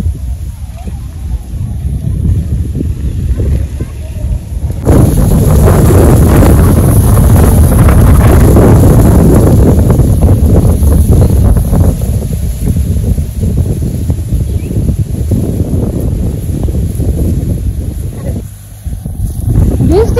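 A strong gusting wind on a rainy day buffets the microphone in a heavy, loud roar that surges and holds, with quieter stretches at the start and end.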